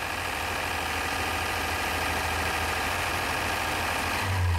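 An old four-cylinder pickup truck engine idles steadily after an oil leak repair, a continuous mid-pitched hum with a slight rough vibration, close and loud, rising a touch just at the end.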